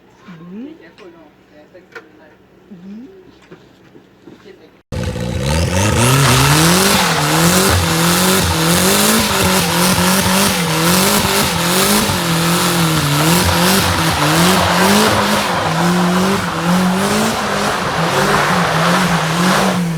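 A rear-wheel-drive Kancil car does a loud, sustained burnout from about five seconds in: an engine revs hard with a wavering pitch under continuous tire squeal. Before it, quieter ambient sound with brief voices is heard.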